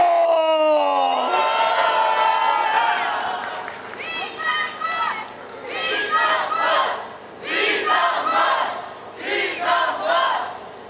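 Crowd at an outdoor political campaign rally on a Korean street erupts in loud sustained cheering and shouting, swelling in repeated waves after an opening voice, with clapping likely blended into the roar.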